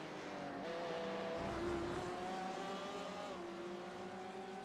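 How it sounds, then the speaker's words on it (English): GTE race car engines in a racing video game at Sebring drone and whine at a distance, pitch rising and falling as they accelerate, with a steady background roar. "I see another car just going off at the hairpin."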